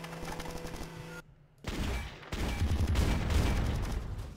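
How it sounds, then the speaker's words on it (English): Machine gun fire in the Bad Bots video game, a dense, loud, continuous rattle of rapid shots that starts after a brief pause and keeps going to the end. "Machine gun it is then"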